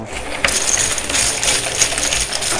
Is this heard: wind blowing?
no